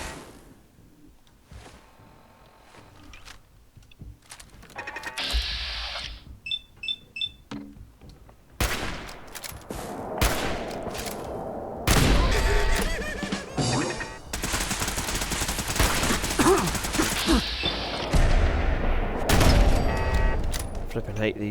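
Turret gunfire in Fallout 4 rattles in rapid bursts alongside game effects and beeps, building into dense, continuous shooting through the second half.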